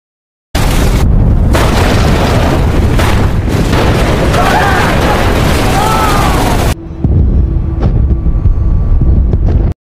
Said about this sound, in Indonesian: karena tekanan reaktor nuklir sudah melebihi batas, akhirnya ledakan pun tak terelakkan.